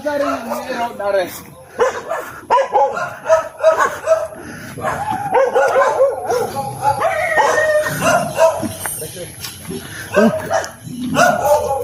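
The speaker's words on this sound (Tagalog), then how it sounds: "may mga aso dito mga idol. Ang tatapang mga idol." Several dogs barking and yipping repeatedly nearby on a pig farm, loud and excited, with someone talking over and between the barks.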